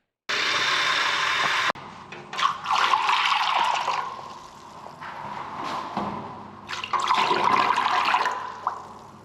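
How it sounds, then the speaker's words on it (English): Water gushing from a bucket into a blocked urinal, a loud continuous splash and rush that cuts off briefly then resumes in uneven surges, close by with no talking. "let's get some water in our bucket, and we're going to pour that down there first"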